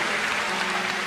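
A church congregation claps for the Lord, a loud, full burst of steady applause filling the room from start to finish without speech.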